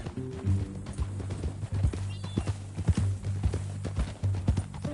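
A horse in Red Dead Redemption 2 whinnies with a clear tonal neigh while hooves clip-clop in an uneven rhythm close by, over faint background ambience.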